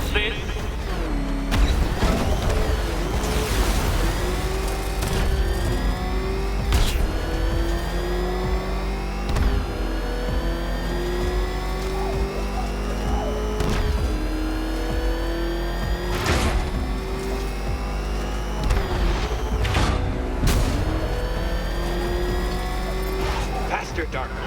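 The Batmobile engine in Batman: Arkham Knight roars and revs continuously, with rising and falling pitch sweeps as it races. Crashes and impacts burst through at intervals, and a voice talks over much of it.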